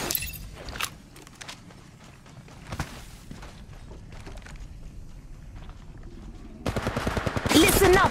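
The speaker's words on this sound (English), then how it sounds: "Listen up, I'm getting shot at." Gunfire in the mobile shooter Apex Legends Mobile, scattered sharp shots and short bursts at varying distance, swelling into heavier near fire at the end.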